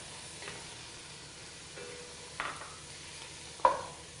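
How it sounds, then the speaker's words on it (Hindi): Ground ginger garlic paste sizzles in a pan of oil for sabzi pulao, a steady soft frying hiss broken by a few sharp spoon scrapes and clinks as it is stirred, close and alone. "हल्का ब्राउन होने पर हमने अदरक लहसुन डालना है।"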